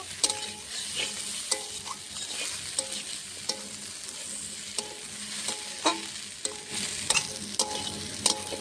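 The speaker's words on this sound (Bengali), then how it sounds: "সবজিটা ভাজা হয়ে গেছে, লাল লাল করে ভেজে নিয়েছি" Mixed vegetables fry in hot oil in a pan for a Bengali fish-head dish, a constant sizzle broken by regular scraping knocks of a spatula stirring, about one stroke a second, close and clear with no voices.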